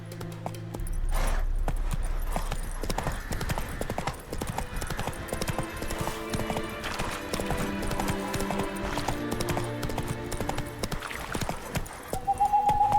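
Horse galloping in the video game The Witcher 3: Wild Hunt, rapid steady hoofbeats clip-clopping over ground for several seconds, with a brief whinny and game music underneath.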